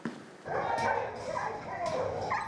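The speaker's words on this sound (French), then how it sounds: "il est temps d'aller nettoyer le chenil et soigner les chiens" Dogs in a fire brigade kennel yip and whimper close by in a steady run of calls, with people talking over them.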